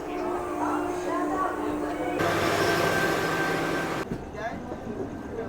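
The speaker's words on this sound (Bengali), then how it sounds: "ছেড়ে দিল আমাদের দার্জিলিং মেল শিয়ালদা স্টেশনের 14 নম্বর প্ল্যাটফর্ম থেকে" The Darjeeling Mail rumbles and rattles as it pulls out of Sealdah station, heard from a general compartment, steady low mechanical noise with a shift in tone partway through and voices in the background.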